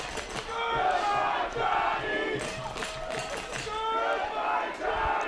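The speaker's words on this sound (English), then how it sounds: "Home crowd letting the visiting fan section hear it a little bit" The home crowd at an NCAA Division III playoff football game yells and chants in rising and falling waves, a large mass of voices heard from a distance and sustained throughout.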